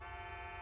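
A vehicle horn in GTA 5 holds as one continuous, steady honk, faint and fairly distant, lasting under a second with no talking.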